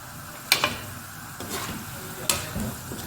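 Potato pieces fry quietly in oil under a soft, steady sizzle, with two sharper scraping knocks from stirring and a few lighter clinks in between.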